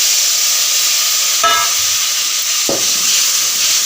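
Tomatoes sautéing in a hot pan for kothu parotta, making a loud, continuous close hiss and sizzle broken by a couple of brief utensil clinks.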